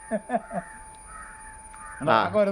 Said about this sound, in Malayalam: കാക്ക വരുന്നുണ്ട് വരുന്നുണ്ട്